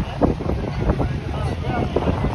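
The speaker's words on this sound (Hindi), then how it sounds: "वहाँ पर इतनी तेज़ हवा चल रही है" Strong desert wind in Dubai buffets the microphone in a continuous low rumble, gusting unevenly throughout.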